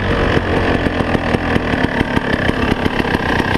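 A dirt motorcycle runs steadily on an enduro ride across farm terrain, with a loud, close, continuous engine drone and rhythmic throttle pulses and bumps. No one speaks.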